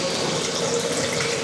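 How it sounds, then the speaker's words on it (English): Water runs steadily from an opened upstairs bathroom faucet as household plumbing is drained, a constant close hiss of flow with no speech. "I'm gonna drain the plumbing. Starting at the faucet in the upstairs bathroom,"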